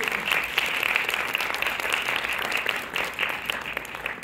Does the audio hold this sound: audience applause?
yes